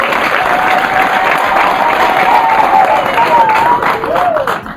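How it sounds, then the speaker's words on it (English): A crowd at a certificate ceremony at Makerere claps loudly and continuously, a thick wash of applause with faint cheering and voices mixed in, close and steady throughout. "Please give her another applause."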